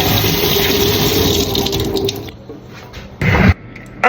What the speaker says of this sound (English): I make the water go and boil up.